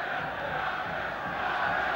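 A football stadium crowd at a KV Mechelen match roars after a goal, a steady dense wash of cheering and chanting at moderate distance that holds without a break.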